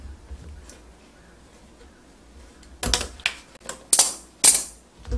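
A new kitchen sink drain hose is cut to length, with a few sharp, crunching snips close by that come in quick succession after a quiet stretch of faint background noise.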